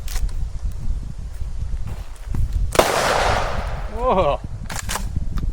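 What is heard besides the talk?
explosive rounds going off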